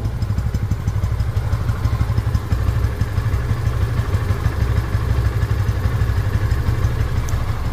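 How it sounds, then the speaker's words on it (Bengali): A used 2022 Yamaha FZ version 2 motorcycle engine runs steadily at a low, even rumble close to the microphone, with no talking over it. "তো রানিং অবস্থায় গাড়িটির সাউন্ড শুনি"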